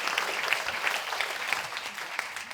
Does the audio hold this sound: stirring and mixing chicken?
no